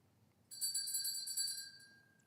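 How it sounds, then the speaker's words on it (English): A school class bell rings electronically for about a second and a half, a sustained bright shrill tone with a steady pitch that starts abruptly and fades, in a quiet room with no talking. "Is that class bell?"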